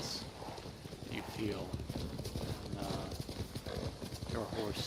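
Horse hooves in the Ghost of Tsushima video game, a clear clip-clop of galloping and landing hoofbeats with a brief whinny, heard close under someone talking.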